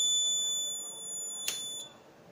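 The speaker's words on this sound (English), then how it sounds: "Code wrong, code incorrect, alarm on." A homemade Arduino password keypad door lock sounds its alarm after a wrong code, a steady high electronic tone holding for nearly two seconds with a short click near the end, loud and close, no speech.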